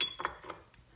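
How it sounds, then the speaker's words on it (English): A glass jar of fennel seeds used as a shaker gives a few soft, dry rattling shakes, quiet and close, with short gaps between them. "Fennel in a glass jar."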